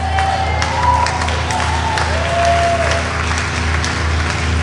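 Applause from an audience, a steady, moderately loud patter of clapping with scattered cheers and voices mixed in, continuing evenly for the whole few seconds.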